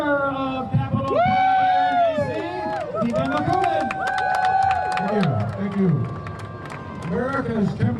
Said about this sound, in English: let's give a big round of applause to the founder